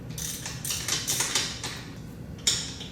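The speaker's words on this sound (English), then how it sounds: "So we're gonna come in here real quick and just pull all these plugs out." Deep well socket work pulling spark plugs from a Gen 1 Suzuki Hayabusa engine, soft metallic clicks and ratcheting scrapes in short bursts, fairly quiet and close, with no talking.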